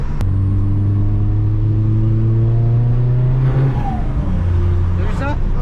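A diesel car engine pulls hard under acceleration, its low rising drone climbing in pitch while a turbo spools up with a whistling whine, then the revs drop and build again; people talk over the steady engine noise.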